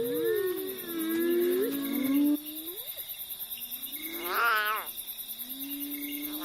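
An abandoned lion cub cries at night, giving high, wavering wails that rise and fall alone over a steady chorus of insects.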